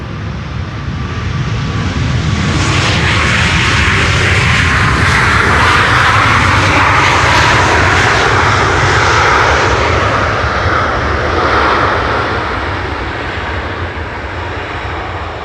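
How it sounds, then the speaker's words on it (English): A WestJet airliner arriving from Halifax roars loudly and close overhead as it comes in to land on the Polderbaan runway 18R at Schiphol airport. The jet engine noise swells to a peak and then slowly fades away, with no voices. "WestJet arriving here, flight 70, arriving from Halifax in Canada."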